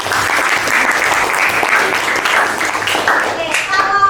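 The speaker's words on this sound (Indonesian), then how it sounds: "tepuk tangan buat Vita" Classroom applause for a student during a mathematics lesson, a steady burst of many hands clapping that holds for several seconds, with a teacher's voice speaking over it.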